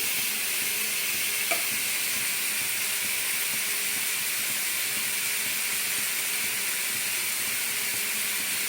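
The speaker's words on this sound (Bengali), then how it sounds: "এইভাবে ঘি কিশমিশ আর এলাচের মধ্যে এটাকে নাড়াবো নাড়াতে নাড়াতে সামান্য জল বেরোবে" Pineapple stirred in hot ghee with raisins and cardamom for jelly, giving a steady, even sizzle and hiss throughout with a faint scrape near the start, no talk.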